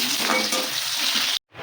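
Chopped onion frying in a pan for a fish and chicken curry, a loud, even sizzle that stops abruptly, then resumes.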